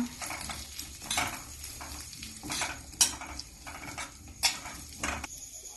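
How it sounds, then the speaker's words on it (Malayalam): A utensil scrapes and clinks repeatedly against a pan while a no-onion, no-garlic fasting dish is stirred, in irregular strokes over a faint sizzle. "ഇത് ഇളക്കി മിക്സ് ചെയ്യാം."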